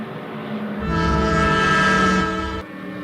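Train sound effect from a soundboard, a passing train with a long sustained horn blast that swells in the middle and cuts off abruptly near the end, heard alone without talk.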